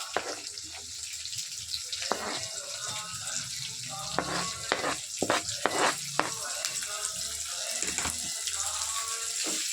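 Onions frying in a pan, a loud steady sizzle broken by a run of sharp scraping strokes of a spatula in the middle, heard close.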